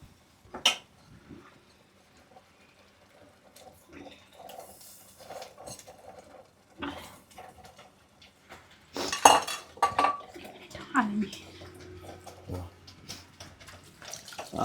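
Metal utensils clink and scrape against a bowl while fish marinade is mixed, in irregular bursts with some watery sloshing and a few kitchen clatters, fairly close.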